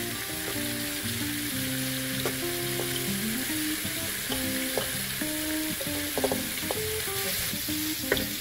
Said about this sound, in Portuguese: aqueça mais 1 fio de azeite extra virgem e comece a refogar primeiro as cebolas